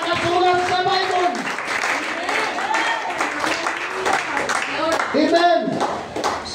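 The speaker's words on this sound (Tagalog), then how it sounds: "Papalakpak at papalakpak ako sa Panginoon" A worship congregation at a Sunday school service claps along over loud music and singing, with steady, dense clapping under the voices.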